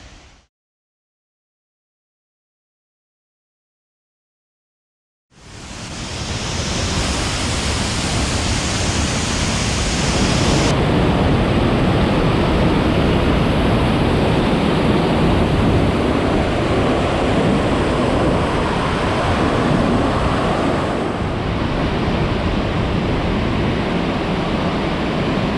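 After a few seconds of silence, a powerful waterfall in Tucker County, West Virginia roars in, a loud, dense, continuous rushing of water that fills everything and never lets up.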